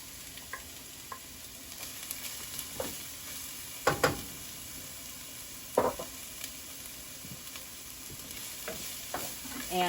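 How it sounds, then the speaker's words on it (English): Minced onion sautéing in a pan over medium heat, a soft continuous sizzle broken by several sharp utensil clinks and stirring knocks, close and fairly quiet, with no talking. "we are going to cook said onion, saute it basically over medium heat"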